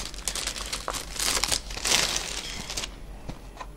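A package for a DeAgostini R2-D2 model kit is unwrapped, its plastic wrapping crinkling and rustling up close in uneven bursts that fade toward the end.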